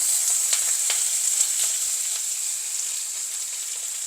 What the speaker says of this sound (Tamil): இப்போ இதில் வந்து ஆயில் கொஞ்சம் சேர்த்து இதெல்லாம் நல்லா வதக்கி எடுத்து